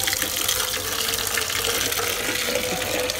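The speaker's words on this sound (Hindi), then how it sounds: "पानी भर के इसमें तो कुछ गमलों में डाल देंगे" Tap water runs steadily into a container being filled for watering potted plants, a continuous close gushing stream with no talking.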